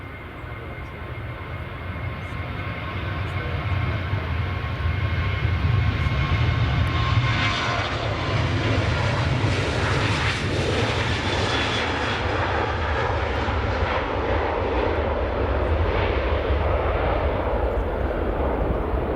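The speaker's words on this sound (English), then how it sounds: "KLM 737-800 heading across to Amsterdam, to Schiphol." A KLM Boeing 737-800 jet airliner departs from an airport toward Amsterdam, a loud, sustained engine roar that swells over several seconds and then holds steady, heard from a distance without talk.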